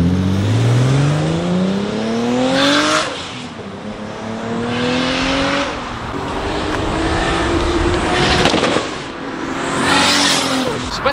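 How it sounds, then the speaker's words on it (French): Toyota Supra with a stage 3+ engine revs hard through rising sweeps, with loud roaring pulls, drops between shifts and sharp cracking bursts, close and dominant throughout. "Je sais pas si vous avez entendu de la décharge qu'elle a donnée quand il a pas passé le rapport, c'était impressionnant."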